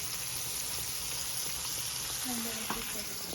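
Continuous, even sizzle of onions frying in hot oil, loud and close, with a faint brief voice near the end.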